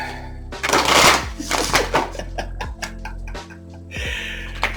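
A tarot deck being shuffled up close, a dense riffling burst followed by a string of sharp clicks and taps as the cards are squared.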